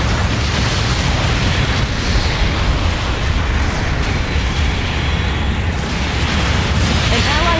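Mobile suit blowing apart in a Gundam video game, a dense, continuous roar of explosions and booming blasts filling the whole stretch at high volume, with game noise layered throughout.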